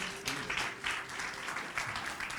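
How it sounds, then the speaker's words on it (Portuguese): A church congregation applauds for Jesus at the close of a service, a full, sustained round of many hands clapping at close range with no talk over it. "Dá um aplauso a Jesus"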